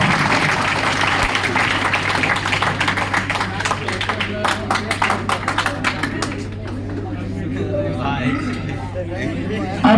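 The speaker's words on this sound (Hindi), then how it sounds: "एक बार जोरदार तालियां फिर दोबारा।" Loud audience applause at a college ceremony in a hall, dense clapping that swells and then thins into scattered claps as crowd chatter rises underneath.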